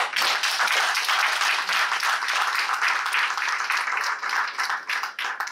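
A crowd applauds brave doctors at a talk on mandatory vaccination, with sustained dense clapping at a steady level and no break throughout.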